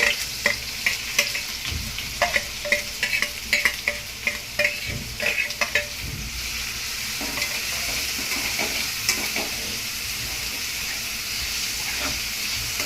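Chopped onion sizzles in a pan while being browned for a Konkan village vegetable dish. Sharp scraping stirs and clinks come in the first half, then the hiss of frying continues alone.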